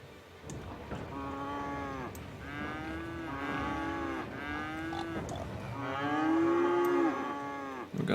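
Cows in the Cities: Skylines city-building game moo loudly and repeatedly in long, drawn-out calls, four or five overlapping lows over a steady ambient town background.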